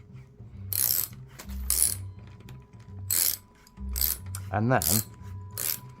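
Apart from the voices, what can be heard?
locking guitar tuners being hand tightened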